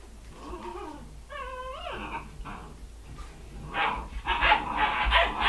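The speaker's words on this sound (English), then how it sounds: "The puppies are going to make noise." Service-dog puppies yip and whine up close, a few short rising cries giving way to a noisy scramble of barking and rustling that grows louder toward the end.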